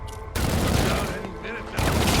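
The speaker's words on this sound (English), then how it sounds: "Officers taking fire." Dense bursts of rapid gunfire erupt in a Batman: Arkham Origins shootout, a short lull followed by loud sustained volleys, with shouting voices mixed in.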